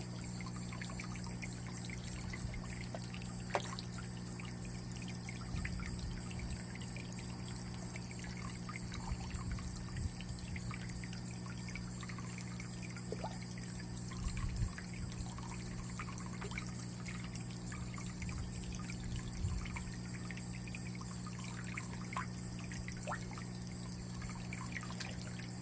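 Steady rain over an outdoor aquaponics setup on a morning, giving a continuous trickling, pattering wash of water with a few louder drips and splashes, fairly close and uninterrupted by talk.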